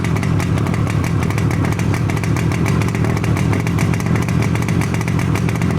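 A Yamaha RD250D two-stroke motorcycle engine runs loud and close, its rapid buzzing rattle holding steady throughout with no talking.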